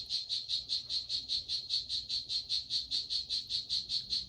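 A poison dart frog calls in a fast, steady pulsed trill. The trill is high-pitched, close and clear, and it repeats about five times a second without a break.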